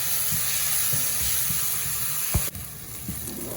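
Onions sautéing in oil in a pan for paneer butter masala, a steady close sizzle and hiss with a few soft stirring knocks and a sharper clink near the end.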